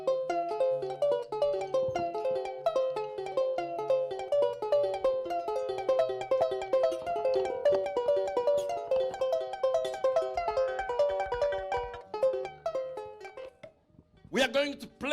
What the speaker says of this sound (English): And that's the sound of the very original guitar.